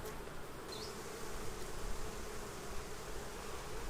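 Honey bees buzz steadily at a red beehive, a dense, close, continuous hum with no voices over it.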